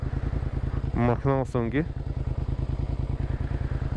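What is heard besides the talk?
old motorcycle engine running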